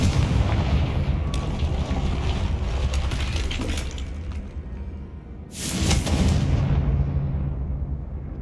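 In the Hogwarts Legacy video game, Bombarda and Confringo spells explode with heavy, rumbling booms, and a second loud blast follows midway.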